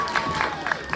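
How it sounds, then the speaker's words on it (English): A comic convention crowd claps and cheers for a cosplayer from Bridgewater, a close, busy mix of hands with a few louder claps and crowd noise; voices mingle in. "Give her a big round of applause."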